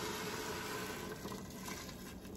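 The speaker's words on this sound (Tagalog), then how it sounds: "This is hot water." Hot water pours steadily in a soft, continuous splashing stream while turkey noodle soup is cooked, faint and unbroken.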